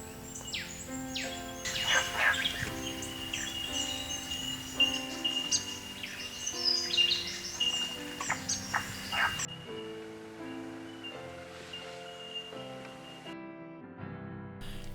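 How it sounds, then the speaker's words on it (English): An Eastern whipbird giving frog-like croaking calls among other bird chirps and whistles, with a steady tonal background and a quieter stretch near the end, no voices. "Listen for a frog croaking sound from this bird."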